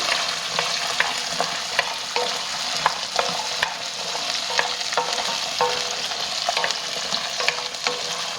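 Chopped onions and curry leaves frying in oil for Madurai-style mutton uppukari, a steady loud sizzle with frequent scrapes and taps of a spoon stirring the pan, no voices.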